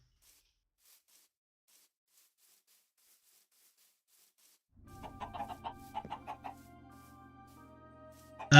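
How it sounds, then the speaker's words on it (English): Chickens in the Minecraft modpack GregTech New Horizons cluck in short quick bursts after several seconds of silence, a few game-sound clucks close by, ending in a sudden loud click. "Chickens will give us meat and feathers."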